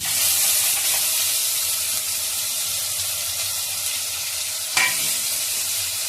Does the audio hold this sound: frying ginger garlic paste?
yes